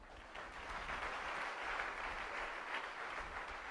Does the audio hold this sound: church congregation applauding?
yes